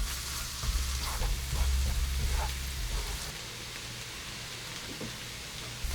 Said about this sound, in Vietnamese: Cho vào chảo 1 muỗng canh dầu và mình cho thêm 30g bơ lạc. Bơ tan thì mình cho vào 2 muỗng canh hành tỏi băm vào phi.